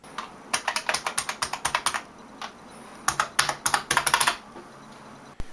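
Someone types on a vintage IBM Model M13 buckling-spring keyboard. Loud, crisp clicky keystrokes come in quick bursts with a short pause between two runs, close to the listener, with no talking.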